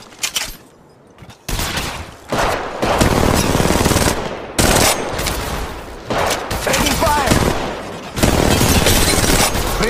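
Automatic weapon fire in the mobile battle royale game Apex Legends Mobile, with dense, loud bursts and rapid volleys of shots repeating through nearly the whole stretch, separated by brief pauses.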